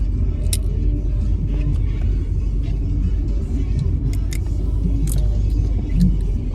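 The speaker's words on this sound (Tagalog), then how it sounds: "Nandito kami sa kotse." Low, steady rumble inside a car driving through traffic, continuous and fairly loud, with faint clicks and brief rustles on top.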